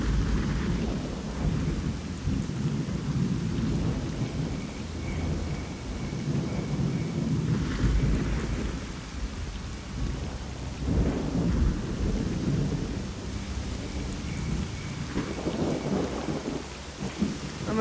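Heavy rain pours steadily at night in the game Stalker: Call of Pripyat, with deep thunder rumbling and rolling through it in several swells, continuous and fairly loud.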